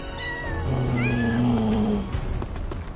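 A cat in Final Fantasy VII Rebirth gives several short, rising meows followed by a longer, sustained low cry, loud and close over steady game background sound.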